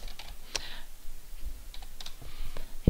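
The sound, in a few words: typing a file name on a computer keyboard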